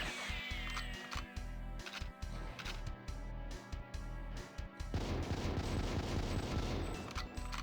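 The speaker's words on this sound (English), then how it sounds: "That's right, hear the gunfire." Rapid bursts of GoldenEye 007 gunfire in paintball mode rattle repeatedly, then a heavier, denser stretch of shooting and booms near the end.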